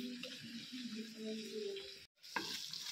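Garlic prawns frying and sizzling in a pan with crisping garlic, a steady broadband hiss with light stirring clatter, broken by a brief silence near the end.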